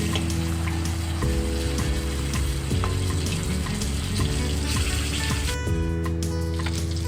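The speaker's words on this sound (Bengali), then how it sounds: "এই দেখো বন্ধুরা, কই মাছ ভেজে নেওয়া হয়ে গেছে।" Koi fish frying in hot oil, a steady dense sizzle and crackle that carries loud and close throughout, with faint underlying hum and no talking.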